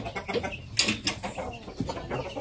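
Young gamecock stag of the Gohan DBC line, about three months old, giving a few faint soft clucks amid low background rustle.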